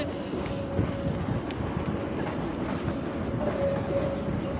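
A train rumbles past on a Helsinki city street, a steady close rolling clatter with faint wheel squeal, continuous and fairly loud with no talk.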